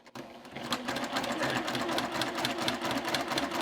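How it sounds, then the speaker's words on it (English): A sewing machine runs steadily along a quilt block seam, stitching in one continuous close-up stretch that lasts the whole moment without pause. "Now I'm just going to sew along the seam."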